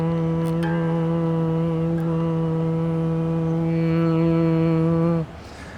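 A Stratocaster electric guitar with the tone knob turned up for a brighter, more trebly sound, letting one sustained note ring clearly for about five seconds before being cut off, with no talking.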